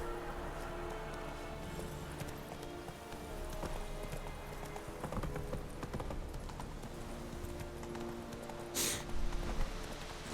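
Hooves of Roach, a horse in The Witcher 3, clop in a steady rhythm over a constant ambient game bed, with a brief louder burst near the end.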